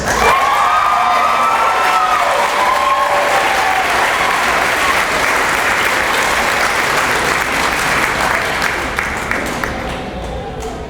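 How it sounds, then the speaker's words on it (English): A large audience at a high school commencement ceremony applauds a graduating student, with sustained loud clapping and scattered cheers and whoops filling the hall before slowly tapering off. "We're going to give him a round of applause."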